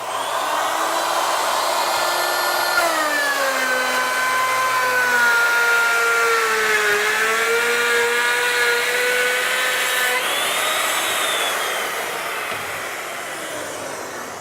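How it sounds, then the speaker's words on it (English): Panel saw router combo cutting a through dado, a steady high-pitched motor whine whose pitch dips and rises as the router moves through the work, loud and continuous. "Going to plunge the router up above the work, go all the way through"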